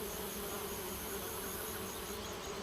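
Honeybees swarming around a honeycomb in a video game, a continuous dense buzzing drone that stays even throughout, alone with no voices.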